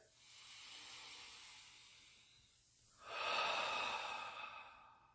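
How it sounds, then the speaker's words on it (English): A slow, deep breath drawn in softly and then released in a louder, airy exhale, close and quiet, with no talking. "Take a deep breath."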